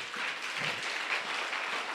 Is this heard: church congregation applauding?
yes